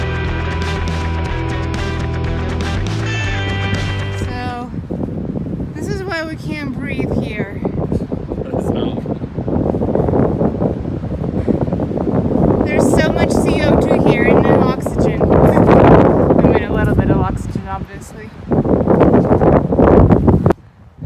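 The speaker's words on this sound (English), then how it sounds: "So today is very windy" Heavy wind roars and buffets the microphone in gusts near Mammoth Lakes in the mountains, rumbling and rustling throughout after a brief tonal passage at the start.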